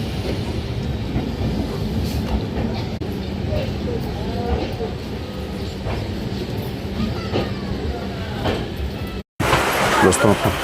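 Sampoorn Kranti Express passenger train rolling along the rails on the Delhi to Patna route, a steady loud rumble with faint clickety-clack and scattered voices inside the coach, briefly cutting out near the end before resuming.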